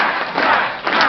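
A packed room of over a thousand supporters at a Maxime Bernier political rally in Toronto cheers and shouts loudly, a dense, continuous roar with swelling bursts, close and filling the space.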